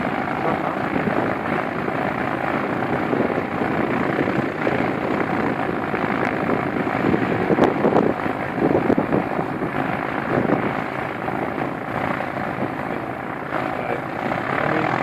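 A World War II propeller training airplane takes off, its engine a loud, steady rumbling drone with wind buffeting, swelling slightly midway as it powers along, with no voices heard.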